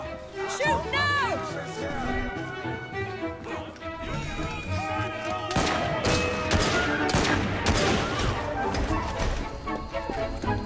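Gunfire in Assassin's Creed Syndicate, set in Victorian London, heard as bursts of sharp shots and crashing impacts over a busy game soundscape with tonal music, growing denser and louder in the second half.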